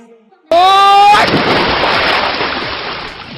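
A jump into the Tejaswini river lands with a sudden loud splash after a brief voice, then gives way to a continuous rushing wash of churning water and wind noise that slowly fades.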